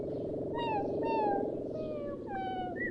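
A cat meows several times in sequence, drawn-out rising and falling calls standing out clearly over a steady, loud background hum.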